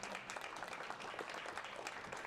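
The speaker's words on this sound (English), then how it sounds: "Can we give a round of applause to our panelists" Audience applause for the panelists at the Ukrainian House during SXSW 2024: a dense, steady wash of many hands clapping at even loudness across the whole span, with no voices above it.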